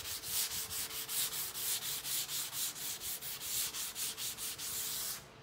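Steady back-and-forth sanding on painted wood of a secretary desk, a rhythmic rasp repeating about four times a second, close and continuous, stopping abruptly near the end.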